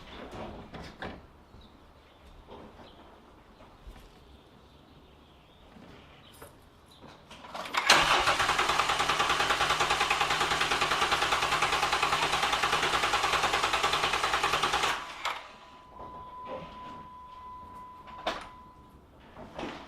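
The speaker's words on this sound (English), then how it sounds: "You just press the gas pedal to the floor and you hold it while you crank." A Jeep JK with the 3.8 engine cranks with the gas pedal held to the floor, giving a loud, steady starter whir for about seven seconds that stops abruptly without the engine catching.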